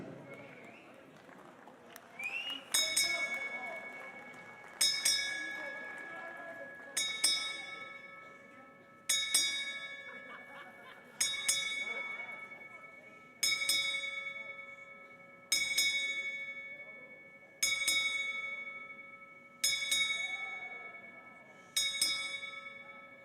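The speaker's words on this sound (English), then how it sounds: "sounding the final 10 bells for Paul Lunam Sr." A ten-bell salute at a boxing tribute: ten clear, ringing bell strikes evenly spaced about two seconds apart, each decaying before the next, with faint crowd murmur beneath.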